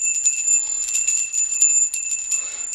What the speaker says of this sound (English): It's a flower arrangement pot with wind chime.